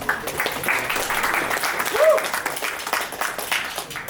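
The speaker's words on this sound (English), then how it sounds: "So I think round of applause just after lunch for them" After-lunch applause from an audience at a tech talk, moderate and steady with speech mixed in.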